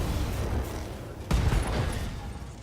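A mech in Battletech fires lasers and long-range missiles: a dense, rumbling volley of weapon fire with a sharp burst partway through, continuous and loud throughout.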